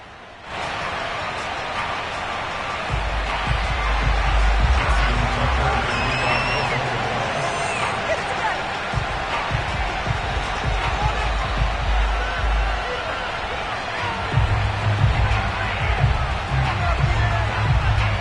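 A Baltimore stadium crowd roars steadily in an EA Sports NFL game before a Ravens versus Bengals matchup, a broad, continuous murmur with swells of cheering beneath a commentator's voice.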